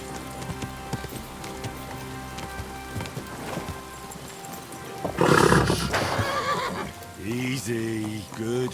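Horse in the video game Kingdom Come Deliverance 2 whinnies loudly midway, with clip-clopping hooves and light rain around it, while game sounds and music fill the background.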